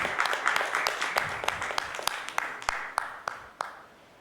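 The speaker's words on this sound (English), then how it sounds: "Let's give him a huge, huge round of applause" Audience applause at an FMCG supply chain summit, a faint, fairly sparse spread of claps that thins to a few loud individual claps near the end.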